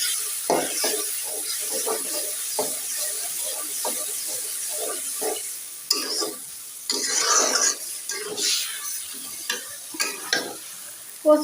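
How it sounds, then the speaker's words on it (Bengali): Onion and garlic frying in oil with taro stems in a pan, a continuous sizzle with repeated scraping stir strokes and occasional clatter, close up. "এগুলো পেঁয়াজ রসুন তেলের পর দিয়ে ভেজে নিলাম"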